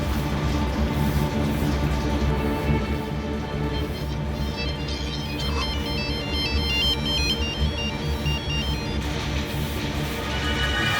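A phone ringtone plays continuously during an outgoing call in a dubbed Kannada film scene, a steady electronic melody that repeats with a brighter chiming pattern in the middle, loud and alone.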